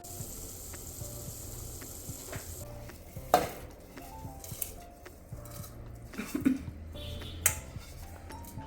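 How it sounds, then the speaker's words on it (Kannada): A utensil stirs soaked basmati rice gently through boiling water in a pot of mushroom biryani, with soft scraping and occasional clinks against the pot over a low bubbling bed, and no talk. "ರೈಸ್ ಹಾಕ್ಕೊಂಡಿದ್ಮೇಲೆ ಕಲಸೋದನ್ನ ಸ್ವಲ್ಪ ಸಾಫ್ಟಾಗಿ ಮಾಡಬೇಕು"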